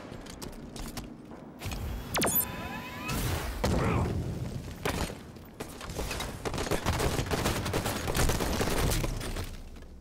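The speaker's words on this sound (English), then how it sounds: "I'm shooting him." Gunfire in the video game Halo 5: Guardians, with repeated shots, booming blasts and weapon bursts in a busy, loud mix of game effects over a steady background.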